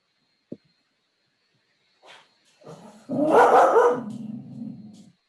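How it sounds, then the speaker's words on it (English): A dog barks indoors: one sharp yip, then after a pause a rising run of loud, growly barks that trail off, nearby and clear against an otherwise quiet room. "my dog started barking as well"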